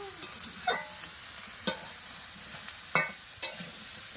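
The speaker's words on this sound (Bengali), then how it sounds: "লবণ দিয়ে ভালো করে লেড়ে দেবো" Greens are stirred with salt in a pan over a faint, low frying sizzle, with about four distinct spatula scrapes spaced unevenly across a few seconds and no talking.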